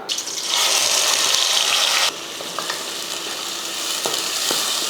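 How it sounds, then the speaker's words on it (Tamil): Ground shallots sautéing in oil until golden for a mutton feast give a loud, steady sizzle that dips slightly partway through, with faint clinks of stirring and no voices. "நல்லா பொன்னிறமாக வதக்கலாம்"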